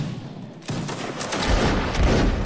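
Musket volley crackling in Mount & Blade Napoleonic Wars as a line of infantry fires, a dense rolling burst of overlapping shots that swells after a brief lull and stays loud to the end.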